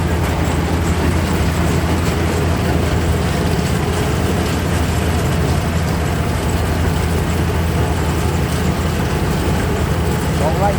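A combine harvester works a rice field at harvest time, its engine a steady, loud, continuous rumble and drone that holds unchanged throughout without pause.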